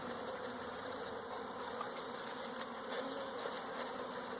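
A package of honey bees shaken down into a hive fills the air with a dense, steady buzzing swarm, continuous and fairly close, with no voices over it.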